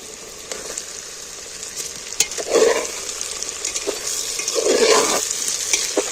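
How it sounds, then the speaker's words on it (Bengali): Chopped tomato and softened onions fry in a pan, with a constant sizzle and two louder scraping bursts as the mixture is stirred close by. "এইভাবে আমি ভালো করে নেড়ে নেড়ে কষিয়ে নেব"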